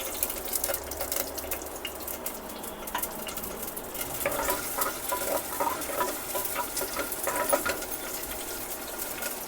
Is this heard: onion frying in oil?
yes